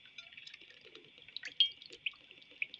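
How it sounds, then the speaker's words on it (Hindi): Cooking oil is poured into a pan, a faint, thin trickling and dripping stream with a few small splashes, close and quiet with no voices. "अब हम शुरू करते हैं कुकिंग ऑयल डालते हैं पैन में"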